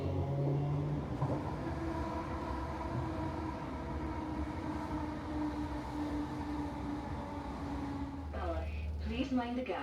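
A train rumbles and hums steadily as it pulls away from Alexandria station on the line to Balloch, the engine tone shifting, with a person speaking at the very end.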